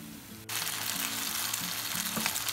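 Five medium diced potatoes frying in two tablespoons of oil: a sudden loud sizzle starts, then a steady close crackle with occasional stirring knocks, no talking.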